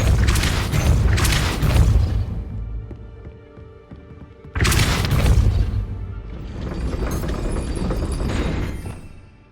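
A Depulso spell goes off in Hogwarts Legacy on Xbox Series X as two loud booming bursts with a rumbling tail. A quieter pause separates them, and nobody speaks.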